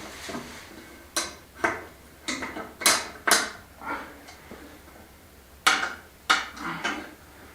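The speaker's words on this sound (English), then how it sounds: "You can't beat one-handed clamps for things like this." A one-handed clamp is fitted and ratcheted tight with a series of close, sharp clicks and clacks in irregular bursts against a quiet background.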